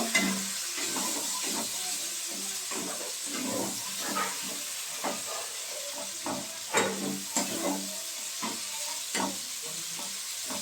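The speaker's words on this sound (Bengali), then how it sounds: "মশলাগুলো খুব ভালো করে কষিয়ে নেব।" Cumin powder, sugar and spices are sautéed in a pan for matar paneer, a loud continuous sizzle broken by regular scraping stirs of the spatula, close and steady.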